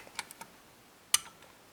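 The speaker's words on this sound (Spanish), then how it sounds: "Ahí el cuarto ha dado un buen clic." A few faint light clicks, then one crisp, distinct click of a lock pin setting while picking a six-lever double-bit lock, close up in a quiet room.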